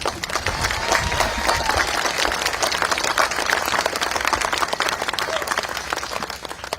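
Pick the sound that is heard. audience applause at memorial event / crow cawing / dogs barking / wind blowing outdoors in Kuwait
audience applause at memorial event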